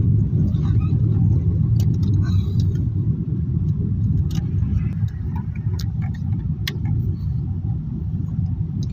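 Motorbikes pass along an Indian road beside a parked car at night, a continuous loud low rumble of engines with faint ticking clicks on top.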